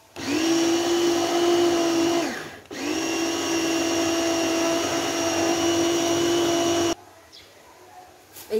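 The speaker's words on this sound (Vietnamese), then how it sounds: "Bây giờ mình đã xay xong rồi." An electric food grinder churns pork paste for Vietnamese chả lụa with a loud, steady motor whine. It cuts out briefly, restarts and runs on, then stops and leaves a quiet room.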